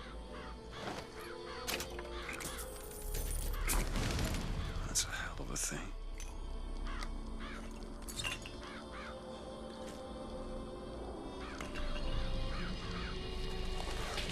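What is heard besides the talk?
murderous crows cawing, Murder of Crows vigor in Bioshock Infinite video game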